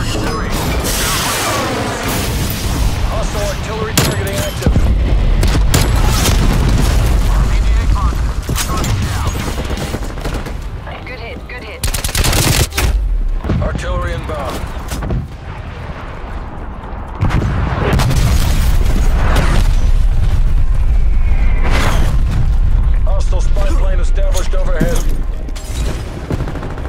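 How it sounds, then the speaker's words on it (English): Video game battle with artillery strike explosions and gunfire, loud booms and rapid bursts of fire almost throughout, with a voice speaking at times over the barrage. "Artillery targeting active."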